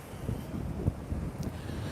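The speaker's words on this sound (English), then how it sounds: "It's a really windy, usual morning in Cleveleys." Strong, steady morning wind in Cleveleys buffets the microphone with a constant low roar and gusty rumbles, loud throughout with no other clear sounds.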